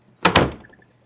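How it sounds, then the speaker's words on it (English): A heavy door in the video game Disturbed struggles open with two quick loud scraping thuds close together, then a fading rattle and creak into quiet. "The door struggles to move, but you enter into what appears to be a spider's den."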